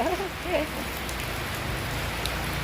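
Heavy rain pours during severe flooding, where a young elephant is playing out in the downpour; a steady, dense, close hiss fills the whole stretch, with a brief voice heard over it at the start.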